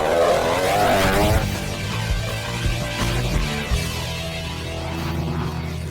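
A go-kart engine runs loud and close, a continuous buzzing drone with a rough, uneven rumble underneath and no voices over it.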